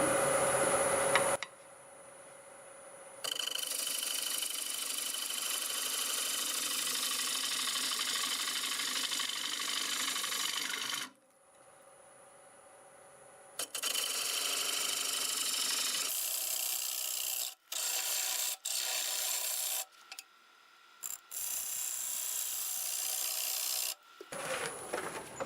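Wood lathe hollowing out a piece of old, dry apple wood, with bursts of scraping and rasping as the tool cuts, broken by sudden stops and short quiet gaps.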